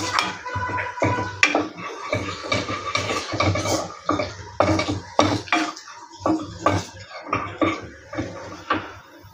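A spoon scraping and clinking against a pan as chilli powder is stirred into tomato chutney, in repeated close strokes with short pauses between them.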